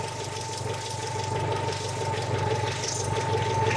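A BMW GS Adventure motorcycle engine idling, a steady close rumble with a light rattle and a constant whine over it.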